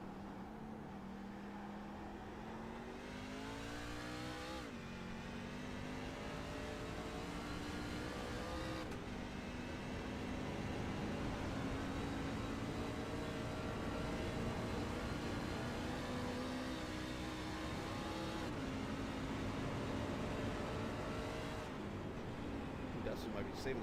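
A race truck engine drones down the straightaway in a sustained steady whine, its pitch dipping and sagging at moments as the revs bog, with a commentator talking over it throughout.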